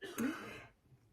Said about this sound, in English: if you hear him coughing in the background